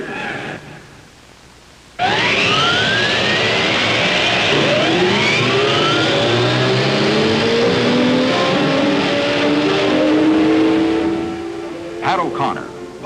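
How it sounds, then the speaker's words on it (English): Race car engines fire up and rev loudly at the start of the 1957 Indianapolis 500, several engines roaring together for about nine seconds before easing off, with an announcer speaking over them. "Gentlemen, start your engines."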